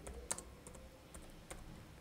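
Quiet, close computer keyboard typing, a scattered run of light clicks and key taps without talking.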